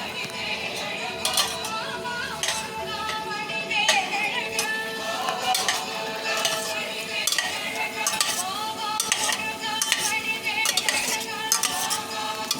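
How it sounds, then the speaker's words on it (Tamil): A spoon stirs egg poriyal with onions in a pan, scraping and clinking against the metal in an irregular rhythm at close range over a faint sizzle. "ஓகே சிக்கு, கலக்கி விடு"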